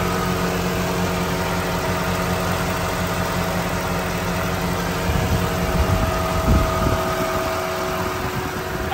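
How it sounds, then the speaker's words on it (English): A 1999 Pontiac Firebird Trans Am WS6 engine runs and idles, a steady close mechanical drone with a fan-like whir and a faint high whine, the level holding even throughout without voices. "Let me get under the hood here so you can hear it run and idle."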